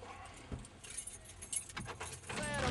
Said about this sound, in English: let me find the keys